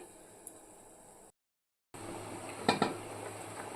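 A lid goes onto a pot of chicken set to boil on high flame, two quick close metallic clinks after a brief silent gap, over faint steady background hiss with no talking.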